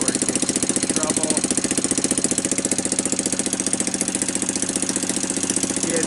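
A Kawasaki Bayou ATV engine fitted with a Mikuni carburetor idles steadily after a carburetor adjustment, a loud, close, rapid even putter with a regular pulsing rhythm and no other sounds.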